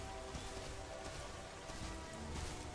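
Rain in The Isle video game patters as a constant, soft, even wash with no breaks.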